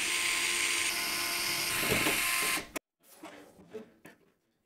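A power screwdriver removes screws from the top panel of an SSUPD Meshroom S V2 PC case, giving a steady whirring drone that stops abruptly, followed by faint rattles and handling clicks.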